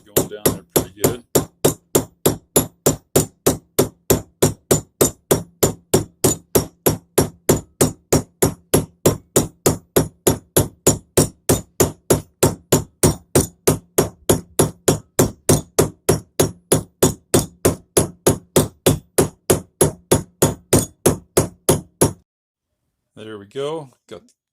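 Steady, rapid hammer blows seating a seal into a small-block Chevy 350 engine, dozens of evenly spaced metallic strikes close up, followed by a brief voice at the end.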